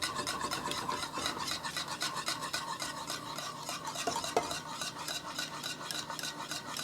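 Eggs being stirred into a chocolate custard filling in a pan over medium heat, a quiet continuous scraping and rubbing of a utensil against the pan with a faint hiss underneath.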